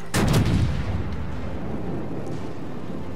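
Heavy naval guns of the battleship HMS Nelson fire a single deep, booming salvo in World of Warships, a loud close blast that rumbles and fades into sustained low background noise.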